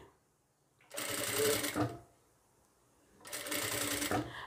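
A sewing machine stitches a blouse in two close, fast whirring bursts of about a second each, separated by a brief quiet pause.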